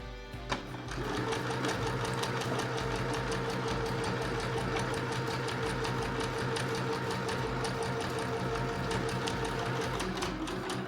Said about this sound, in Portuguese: Ao costurar, atenção aqui, porque vamos costurar na margem do tecido, portanto, no limite do nosso tecido.